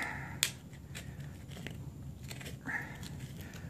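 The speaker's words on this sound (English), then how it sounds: "It sounds like this blade's just nicking and chunking and cracking, but it's not. It's the wood." Bushcraft knife carving into wood, sharp cracks and chunking bites at about 0.4 s and 2.7 s over a low, steady rumble, close and fairly quiet.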